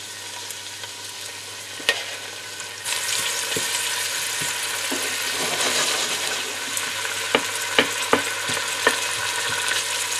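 Shallots, garlic, chili and capers frying in a pan for mussels in tomato sauce, a steady loud sizzle that swells after a few seconds, with occasional sharp clicks and scrapes of stirring.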